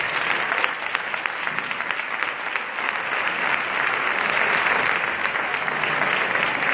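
Steady, sustained applause from an audience honouring the falleres majors at a Falles federation gala in Marítimo, Valencia, filling the whole stretch at an even level with no voices over it.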